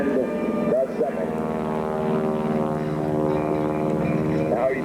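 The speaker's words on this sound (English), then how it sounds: "Pulling it up now, and going around with the aileron roll." An aerobatic propeller airplane performing an aileron roll at an air show in 1990, its engine droning steadily and loud throughout with a faint pitch wobble as it turns, no talk over it.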